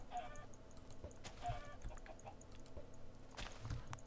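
Short clucking calls from a Minecraft chicken, a few scattered bursts over constant background game noise, moderately faint.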